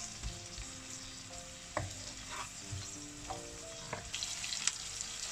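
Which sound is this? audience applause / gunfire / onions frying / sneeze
onions frying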